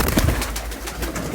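Breeder pigeons coo close by in a short, continuous throaty murmur.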